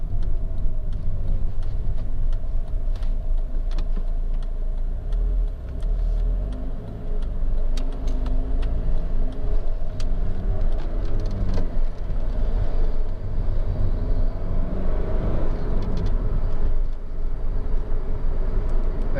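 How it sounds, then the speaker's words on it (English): Honda Civic 2.2 i-CTDi EX diesel hatchback engine under way, a steady low drone with road rumble and faint ticking throughout, close and continuous with no talk. "The engine really pulls really nicely, it's got to be said."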